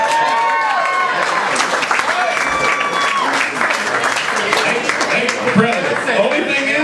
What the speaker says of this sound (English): Let's hear a round of applause for that.